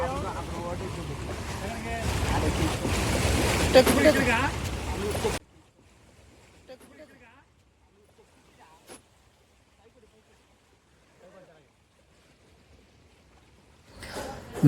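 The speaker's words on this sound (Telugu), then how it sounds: "అలలు ఎక్కువ రావడం వల్ల" Waves on the water at the Nagarjuna Sagar dam make a loud, wind-buffeted rushing and splashing close to the microphone for about five seconds, then cut off to near silence with only faint scattered sounds.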